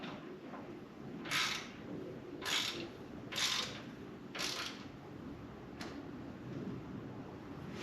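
A ratchet snugs a bolt on a Harley-Davidson motorcycle fork, giving five short bursts of quick metallic clicking over a low background hum in a quiet garage.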